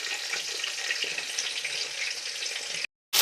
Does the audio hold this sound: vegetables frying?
yes